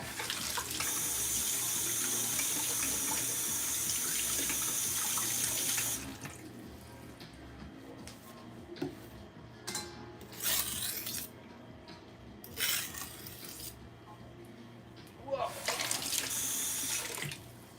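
Tap water runs steadily into a kitchen sink to rinse meat, a loud, continuous gush that cuts off partway through, followed by faint intermittent splashes and handling sounds at the sink.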